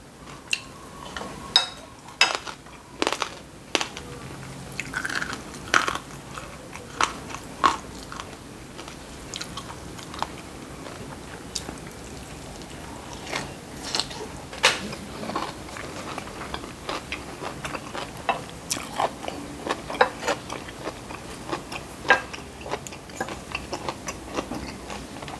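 Crunchy fried shallots eaten with garlic rice, pickled shellfish and fresh vegetables, with repeated close crunchy bites and steady chewing throughout, no talking.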